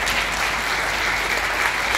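An audience at the opening of a third electronic-waste recycling factory in Buzău applauds guests from Slovakia, a dense, steady wash of many hands clapping at once, loud and close.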